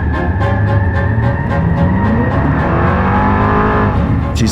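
A car speeds past as an audio drama effect, a loud sustained engine roar that holds steady and then shifts in pitch as it goes by, ending in a brief bright burst.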